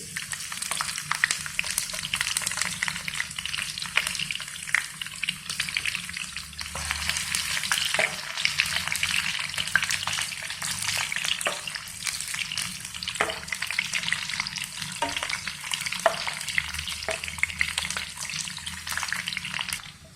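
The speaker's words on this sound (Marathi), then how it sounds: "फ्लावर फ्राय करून घेऊ." Cauliflower deep-frying in hot oil for a restaurant-style vegetable Kolhapuri: a steady, bright sizzle with crackling pops runs throughout, close and continuous, with faint stirring clinks.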